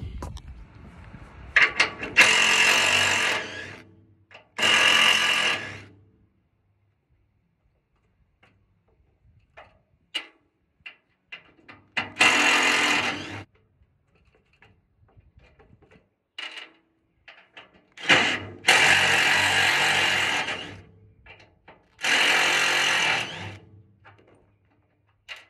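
A power tool backs screws out of the wooden deck boards on a stepdeck trailer in short whirring bursts of a second or two, separated by quieter gaps with faint knocks and handling noise.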